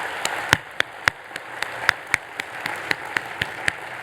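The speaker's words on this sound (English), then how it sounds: "How about another round of applause?" Applause at an annual conference closing plenary, with a handful of sharp, distinct claps in a loose, fairly regular rhythm standing out close up above a softer, scattered crowd clapping.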